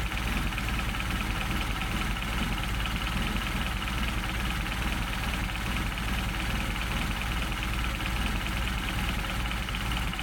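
A Mercedes 190SL engine idling steadily while its Solex carburetors are adjusted, a continuous close rumble with an even mechanical hum and no clear pitch change, no voices.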